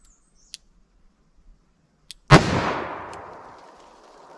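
A .44 Magnum round fires from a Smith & Wesson Model 69 revolver as a single loud, sharp blast with a long decaying echo, after a few faint clicks.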